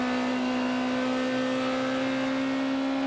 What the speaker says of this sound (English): Listen to the revs on that BMW engine.